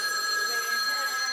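An old desk telephone, reportedly unplugged and short-circuiting, rings with a steady, sustained electronic bell tone that fills the whole short stretch at close range, with no one talking over it.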